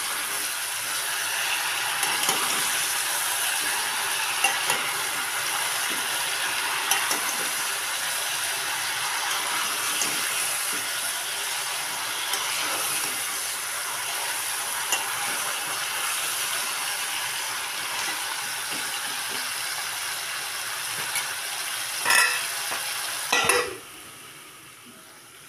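Mung bean pods fry in a pan with a steady sizzle, broken by occasional scraping stirs and a few louder clatters near the end, close by and without talk.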